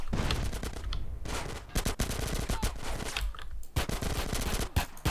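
Rapid bursts of automatic gunfire rattle through a shootout in GTA San Andreas, dense and loud with sharp repeated shots and brief gaps throughout.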